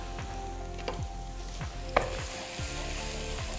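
Finely chopped onions frying in a pan, a continuous loud sizzle with a few scraping stirs and light clinks of a spoon against the pan.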